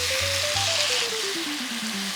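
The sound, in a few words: tomatoes added to hot oil with aromatics, sizzling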